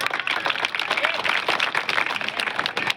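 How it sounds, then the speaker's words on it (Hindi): Audience applause at a Sufi Khanqah Association gathering, a dense burst of clapping lasting a few seconds with a loud voice carrying over it. "ताली मार दो भाई साहब एक बार जोरदार"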